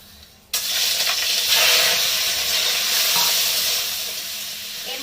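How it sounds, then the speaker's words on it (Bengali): Prawns dropped into hot oil in a pan burst into a loud, sudden sizzle that stays strong and hissing, with faint stirring, close by and without speech. "এবার চিংড়ি মাছটা প্রথমে আমি ভেজে নেবো।"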